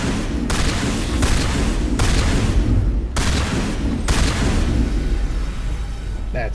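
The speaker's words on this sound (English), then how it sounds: "We will switch to the shotgun, I believe." Shotgun blasts in the video game Mass Effect, four heavy booms spaced about a second apart over a constant loud rumbling battle background, close and forceful.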